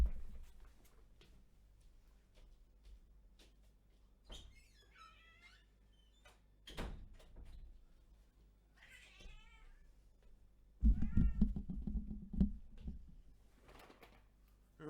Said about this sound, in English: If you're going to meow at the door, you have to make an appearance on camera.